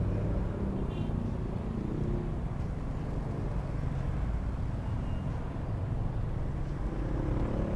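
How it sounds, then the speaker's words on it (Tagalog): Steady, loud road-traffic rumble surrounds a Honda Wave RSX motorcycle crawling through rush-hour congestion in Vermosa, Imus, Cavite. The engine and traffic noise form one continuous close wash with no voices. "Grabe, ipit sa traffic."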